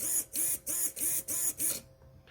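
Servo on a WLTOYS 144001 RC car sweeping back and forth, six evenly spaced whirring buzzes with short gaps, close and steady, then quiet.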